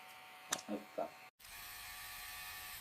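A short bit of talking gives way, after a brief silence, to an electric beard shaver buzzing in a steady, even drone that runs on unbroken.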